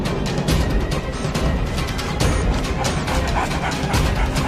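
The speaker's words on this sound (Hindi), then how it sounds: "ये सारे कुत्ते हट जाएंगे" Several dogs bark and yip in a noisy, crowded scene from an animated Hindi story, the sound loud and dense and overlapping with a busy background din throughout.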